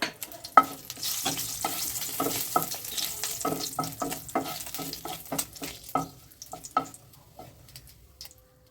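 Whole spices (a bay leaf, two pieces of cinnamon, two cloves, two cardamoms, a little cumin and one dried chilli) hit hot oil for a no-onion, no-garlic chitol fish kalia, crackling and sizzling with steady spoon stirs, then quietening toward the end.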